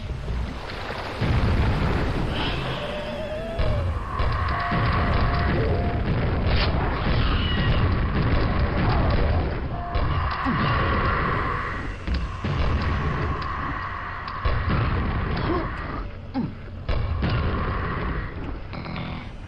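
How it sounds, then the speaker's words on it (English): A series of heavy booming grenade explosions in the first-person shooter Quake, several loud blasts bursting at irregular intervals over a constant rumbling background, close and dominant with no talking. "It's time to use more grenades."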